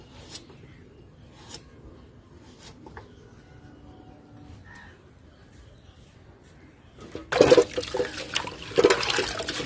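Leafy greens are washed by hand in a bowl of water: after a quiet stretch with faint handling noises, a loud burst of splashing and sloshing water begins close by and continues.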